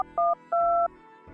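Touch-tone keypad beeps dial the number 1930 on a phone: four short electronic tones, the third held longer, separated by brief gaps of quiet room sound.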